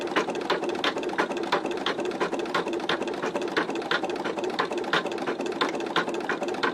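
An embroidery unit stitches an orange peel design in a fast, steady mechanical clatter of evenly spaced needle strikes, close and continuous with no voices.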